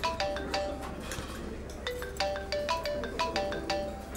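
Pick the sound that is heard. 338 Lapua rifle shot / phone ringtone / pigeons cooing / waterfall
phone ringtone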